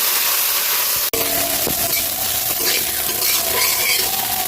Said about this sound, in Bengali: মশলাটাকে ভালোভাবে কষিয়ে নেবো